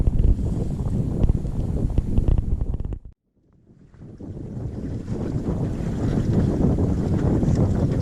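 Steady wind roars across the microphone over rushing water and hull noise aboard a sailing boat in the Sound of Shuna, Scotland, cutting out briefly to near silence before gusting back strong.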